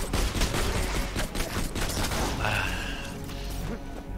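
Gunfire in Borderlands 2, a rapid fusillade of loud shots with clanking mechanical bits, dense at first then thinning out, over faint speech.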